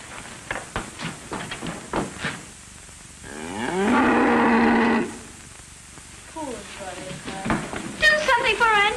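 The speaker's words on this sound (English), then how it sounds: "She's lying in her stall moaning and mooing." A cow lying in her stall lets out one long, loud, drawn-out moo in the middle, with people talking before and after it.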